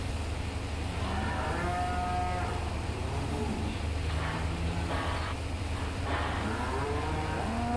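Cows in a farming video game moo repeatedly, several overlapping calls spread across the stretch, heard over a steady low hum.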